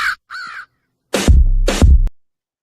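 A crow's caw used as a sound effect in a song: two short raspy calls, then two louder, longer caws over a deep bass hit, close and prominent with no talking.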